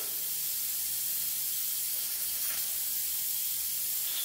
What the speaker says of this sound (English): You can hear air coming out the other port.